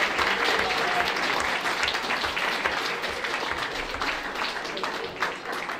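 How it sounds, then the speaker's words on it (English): Audience at a powerlifting championship applauding the 83 kg class winners, a full, sustained round of clapping that stays loud throughout, with some voices mixed in. "Big round of applause for our 83s."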